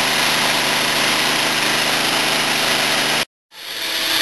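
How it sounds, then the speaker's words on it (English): A power washer blasts polymer-modified concrete stairs with a loud, continuous close-up roar of engine and spray. It cuts off abruptly near the end, then ramps back up. "So really work the surface real well with your power washer for the second power wash."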